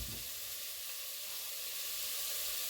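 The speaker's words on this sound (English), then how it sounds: "As we let that sizzle" Bacon sizzles in a hot pan with a steady, dense crackling hiss, close and continuous for a few seconds, with no voices.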